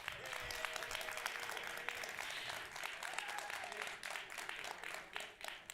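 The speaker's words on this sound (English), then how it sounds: "Let's do a round of applause." Round of applause from an audience at a game showcase event, dense scattered clapping heard faintly and at a distance for several seconds, with a voice and a whoop mixed in.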